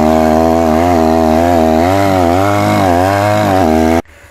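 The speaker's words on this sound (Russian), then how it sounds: "пропиливаем дорогу. Там дальше нас еще ждет одно бревно." A chainsaw runs loud and steady while cutting through fallen trees that block a forest road, its pitch wavering as the blade bites into the logs, then it cuts off abruptly near the end.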